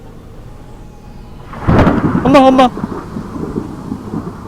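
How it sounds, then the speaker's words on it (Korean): Thunder in the horror video game Time to Wash Up: a loud, rumbling crack bursts out and quickly fades, while a voice shouts over it. "번개 소리가 좀 크네요."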